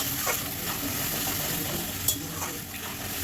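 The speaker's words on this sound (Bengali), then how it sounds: "মশলাটা এটা ভালো করে কষে নেবো" Onion and spices stir-fry for chicken curry, with a constant loud sizzle of hot oil and a few sharp scrapes of a spoon against the pan over a short stretch.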